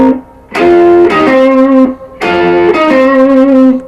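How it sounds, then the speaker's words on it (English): Distorted electric guitar lick with a double stop bend and a whole step hammer-on, playing two sustained phrases with a slight upward pitch movement, loud and close. "that's a whole step hammer on."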